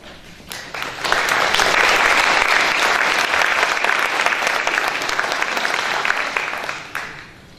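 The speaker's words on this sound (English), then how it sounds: "I need to make sure that we applaud their effort." A crowd at a Plymouth annual town meeting applauds steadily for about six seconds, the dense clapping swelling quickly after a brief lead-in, holding loud and even, then tapering off near the end.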